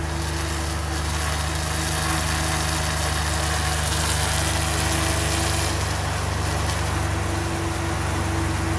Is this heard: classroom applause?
no